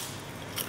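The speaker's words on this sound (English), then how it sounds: "It's a very crunchy dish." A single crisp, brittle crunch of a rice cracker being bitten, close up and brief, with no voices.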